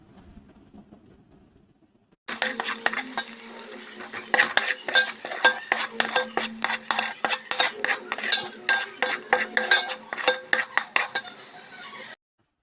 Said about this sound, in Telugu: మనం ధనియాల పొడి, జీలకర్ర పొడి ఈ 2 వేసుకుని బాగా కలుపుకోండి